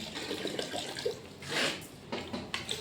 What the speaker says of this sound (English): You see, I'm throwing some water.